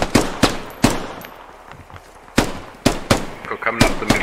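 Loud gunshots crack in a video game squad match, single sharp shots and short bursts spread across a few seconds, with players talking between and over them.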